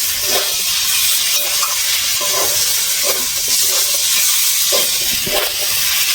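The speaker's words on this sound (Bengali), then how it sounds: "আমি এবার আলু ভেজে রাখা আলুটা দিয়ে দিচ্ছি। এটা দিয়ে আমি 5 মিনিট কষাবো" Fried potato pieces sauté in a pan, giving a loud, constant hiss of frying with soft stirring knocks scattered throughout; no voices.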